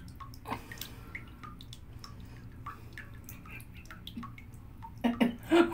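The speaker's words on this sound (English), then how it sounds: "I'm filming the bath bomb." A bath bomb dissolving in a filled bathtub gives soft, scattered fizzing drips and small watery plinks, close and quiet, with a louder splashing burst near the end.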